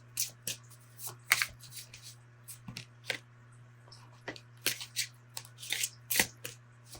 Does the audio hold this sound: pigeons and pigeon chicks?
no